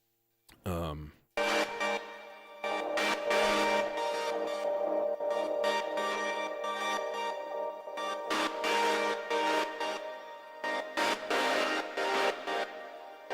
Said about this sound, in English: How about that crunchy ass distortion?